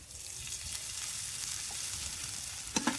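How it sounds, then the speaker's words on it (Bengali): Chopped garlic and ginger fry in a pan with a steady, close sizzle and occasional stirring scrapes, then two sharp clinks near the end. "আদাও রসুন দিয়ে কিছুক্ষণ নেড়ে নেব বন্ধুরা রসুনটা আর আদাটা ভাজতে ভাজতে দেখুন কালারটা চেঞ্জ হয়ে গেছে"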